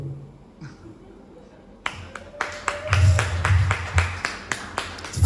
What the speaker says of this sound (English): It's the first time anybody applauded for that.